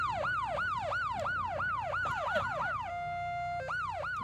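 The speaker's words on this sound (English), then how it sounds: "And what would a parade be without our sirens?" Police car siren at a St. Patrick's Day parade, a loud rapid rising-and-falling wail repeated many times, then a brief steady tone before the wail resumes.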